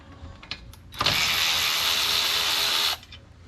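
A ratchet wrench loosens bolts on a Land Rover LR3 / Discovery 3 parking brake, a single close, continuous whirring ratchet burst of about two seconds, preceded by a few faint mechanical clicks.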